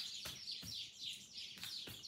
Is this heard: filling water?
no